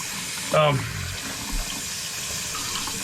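Tap water runs briefly over the outside of a wine jug, a short close splash and gurgle that fades into quiet room noise.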